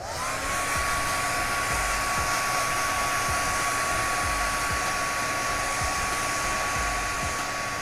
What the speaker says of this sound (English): They want you to use a hair dryer to warm the adhesive part of the grip